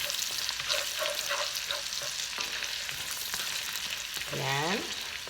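Garlic frying in a pan while Pinakbet is being cooked, a steady close sizzle with stirring scrapes and a few clinks of a utensil against the pan, without any talking.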